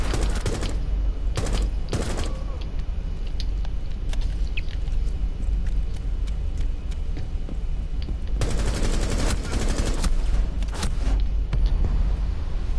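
Gunfire in the Rainbow Six video game comes as sharp bursts of rapid shots and heavy volleys, with scattered single cracks between them, loud and close over a constant game ambience, with no talk.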